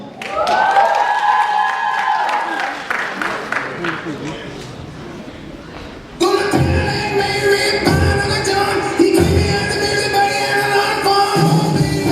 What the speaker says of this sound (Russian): Встречаем бурными аплодисментами.